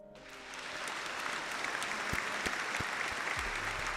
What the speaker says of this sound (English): we got to clap it up for that one